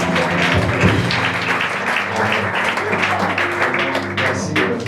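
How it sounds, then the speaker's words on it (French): A church congregation claps and cheers, a dense sustained wash of applause with voices mixed in, loud and filling the hall for several seconds. "Acclamons ça."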